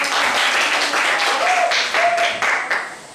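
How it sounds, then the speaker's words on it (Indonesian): A classroom of students gives a round of clapping for a group of presenters, a loud, dense wash of applause over a couple of seconds with faint voices mixed in underneath. "Tepuk tangan sekali lagi"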